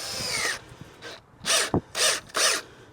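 A power drill drives exterior-grade screws into deck boards in short bursts, with several whirring runs separated by brief pauses and a quick click in between, close and fairly loud.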